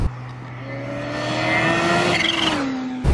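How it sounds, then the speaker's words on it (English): A supercharged 2019 Kawasaki Ninja H2 SX SE motorcycle flies past, its engine note rising in pitch as it approaches and falling off as it goes by, loud and close for a few seconds. "I love the noises you get from the supercharge as well."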